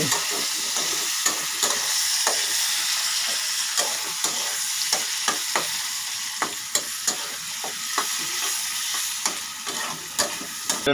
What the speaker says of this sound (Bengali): পেঁয়াজ ভাজা ভাজা হয়ে যাচ্ছে